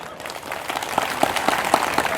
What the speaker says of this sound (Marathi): एकदा खरंच स्वतःसाठी टाळ्या वाजवा.